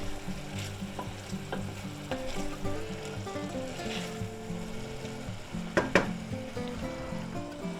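Vegetables for potato and ham soup soften in a pot, a continuous sizzle with spoon stirring and scraping throughout, and a couple of sharper clanks near the end.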